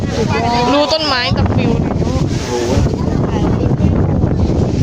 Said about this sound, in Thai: ลมแรงมากทางนี้